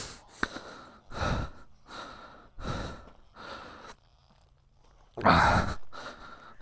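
Heavy, laboured breathing from a rider out of breath after a crash with a Himalayan 450 motorcycle, in several loud gasping bursts of inhale and exhale with short quiet gaps between, close to the microphone.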